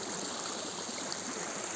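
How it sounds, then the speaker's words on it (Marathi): A stream of water flows and babbles steadily, a continuous rushing wash with no pauses and no voices. "आणि बघा इकडे पाणी कसं खळखळ खळ वाहते"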